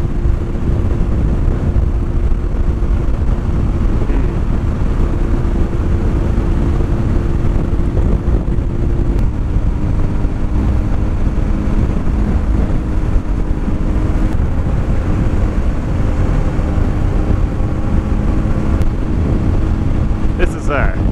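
A car engine at 3,000 RPM holds a steady drone while coasting downhill at night on Tassajara Road toward Fallon, with loud wind and road rumble filling the cabin continuously.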